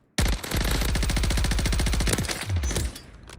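Rapid automatic gunfire from a first-person shooter game, a loud sustained burst of evenly spaced shots lasting about two and a half seconds, then a few trailing clanks as it stops.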